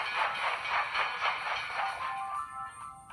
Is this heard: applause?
no